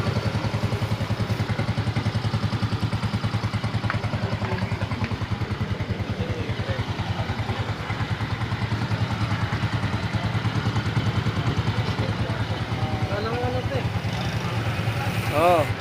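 A Yamaha Mio i 125 scooter engine with lost compression idles with an uneven, chugging beat, running steadily throughout with some clatter.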